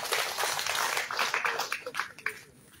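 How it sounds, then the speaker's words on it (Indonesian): Brief applause from a crowd during a governor's working visit in East Nusa Tenggara, scattered clapping that starts fairly strong and thins into separate claps as it fades, with some voices mixed in. "Tepuk tangan dulu Pak Umbung."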